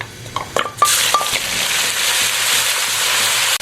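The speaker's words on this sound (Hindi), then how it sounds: "तो पहले ऑयल में ये डालेंगे, इसको थोड़ा सा फ्राई करेंगे।" Ginger, garlic and chillies hit hot oil with a sudden steady sizzle, after a few clinks of a utensil against the pan; no voices.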